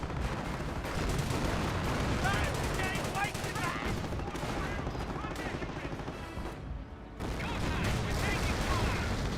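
An artillery barrage in the World War II strategy game Company of Heroes, with heavy continuous booming and rattling gunfire, dense and loud throughout, with a brief lull before it resumes.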